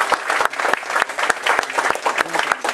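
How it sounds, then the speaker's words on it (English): Audience at an office Diwali celebration applauds steadily, a dense run of overlapping claps with a few sharp individual hits standing out, fairly close and sustained throughout. "Could we have a big round of applause for all of them?"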